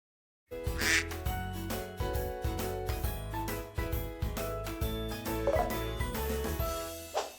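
A cartoon duck quacks in a kids' animal feeding game, short quacks popping out over bouncy, steady background music that plays throughout.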